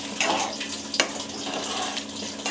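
Water is poured from a vessel into a cooking pan while a simple home recipe is prepared, a steady rushing splash that runs throughout, close and fairly loud.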